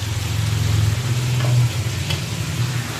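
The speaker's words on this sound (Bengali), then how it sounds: "তো আমি আবার ভালো করে কষবো।" Mutton sizzling and frying with cumin powder and spices in a pan while being stirred, a steady close crackle and hiss running without pause.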